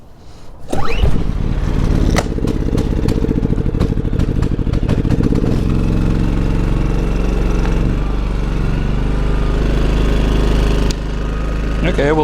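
A propane-fueled portable generator with its battery dead or disconnected cranks, catches and settles into a steady, loud, close idle, its chugging engine drone continuing evenly with a brief clatter near the end.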